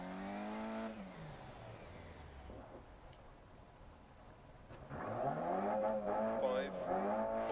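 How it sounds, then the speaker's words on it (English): Rally car engine in the DiRT Rally video game, a harmonic engine drone that fades, then revs up strongly and holds loud with shifting pitch, while someone talks over it. "Let's just see how this car drives"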